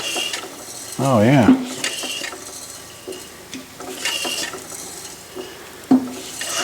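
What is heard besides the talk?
Fairbanks-Morse Z style C engine being turned over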